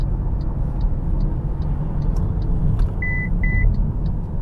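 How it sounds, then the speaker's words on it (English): Inside an MG5 long-range electric estate car accelerating to overtake, a steady loud road and tire rumble fills the cabin, with faint ticking and two short electronic beeps near the end. "Here's a rare chance for me to test the MG5's ability to overtake."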